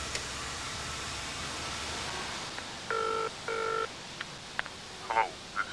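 Telephone number being dialed on a 1993 phone: two distinct dial tones, evenly spaced, followed by a few faint clicks and brief blips over a steady hiss, with no talking.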